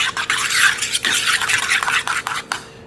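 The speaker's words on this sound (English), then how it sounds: "we're gonna go ahead and mix this with the sauce" Cooked rigatoni being stirred into sauce in a pot, close up: wet, squelching scrapes and sloshing in continuous strokes, with a faint clink of the utensil, ending abruptly.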